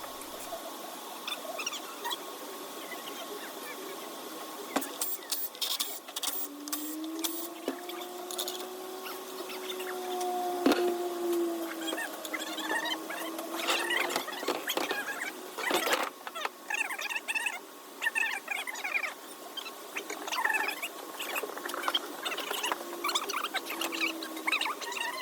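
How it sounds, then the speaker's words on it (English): Scraping and wiping inside the pan of a 6L90 automatic transmission during a rebuild, with a steady run of close, small rubbing, squeaking and scratching sounds and occasional light clicks. "Here I'm cleaning the inside of the pan out a little bit to get it ready for the washer"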